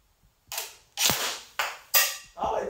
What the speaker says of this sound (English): And we're gonna shoot a TV.